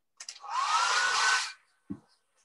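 A hair dryer blows on a painting between coats of paint, a loud steady whoosh lasting about a second before it cuts off, then a soft click.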